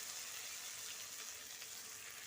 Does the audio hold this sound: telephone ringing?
no